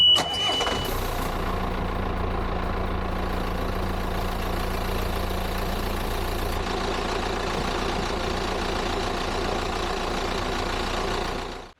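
A diesel engine with a freshly rebuilt injection pump cranks and fires at once, then runs at a loud, steady idle close by for the rest of the clip.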